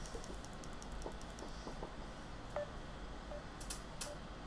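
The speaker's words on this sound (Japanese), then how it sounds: "電話しますよ、今から" Telephone dialing tones sound as a short run of faint beeps over steady background noise, with no one talking.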